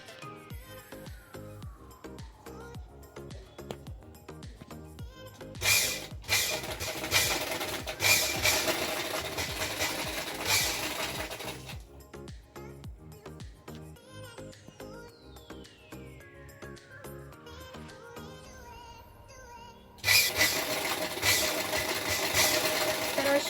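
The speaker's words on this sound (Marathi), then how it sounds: "आता मी या खालच्या पार्टला आता शिलाई मारून घेत आहे" A sewing machine stitches the bottom part of a saree, running in long steady bursts of rapid, close mechanical whirring, each run winding up and down, with short slowing gaps between them.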